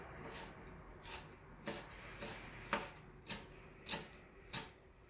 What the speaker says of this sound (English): I always ball my parsley up and then it helps me to chop it better.